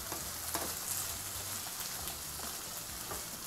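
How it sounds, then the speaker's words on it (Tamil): Vegetables for avial sauté in a hot pan with a steady crackling sizzle, a close continuous frying hiss broken by faint stirring clicks, with no one speaking. "ஒரு 2-3 நிமிஷம் நம்ம நல்லா வதக்கிடலாம் இந்த காயை."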